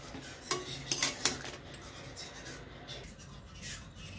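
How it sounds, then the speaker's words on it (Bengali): A metal lid is set onto a cooking pot of radish and shrimp curry, giving a few close clanks and scrapes early on, followed by a low simmering hiss. "এবার ঢাকা দিয়ে দেব।"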